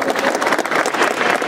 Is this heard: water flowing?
no